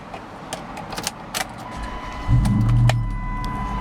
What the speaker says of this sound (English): Fires right up